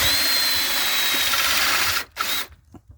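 A power drill cuts a concealed hinge hole in plywood through a Kreg jig down to a depth-stop collar, a steady close whine for two seconds, then stopping with a couple of brief follow-up bursts.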